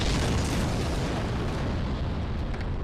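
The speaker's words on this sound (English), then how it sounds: "If you don't move quickly, you will get hit by one of those exploding balls" Exploding balls from The Talos Principle video game burst in a loud, sustained roaring blast that fills the whole moment without letup.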